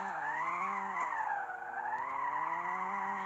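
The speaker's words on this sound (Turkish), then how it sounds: "Araba hala gidiyor." A car in a car crash simulation video game drives on with a steady, droning engine tone that rises and falls slightly in pitch, heard alone and fairly close.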